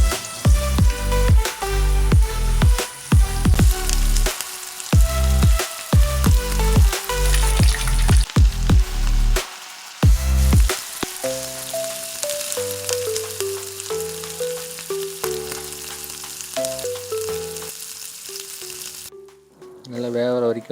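Chicken lollipops dropped into hot oil and deep frying, loud bubbling sizzle with repeated clatter early on, then a steadier hiss as the frying settles, close up.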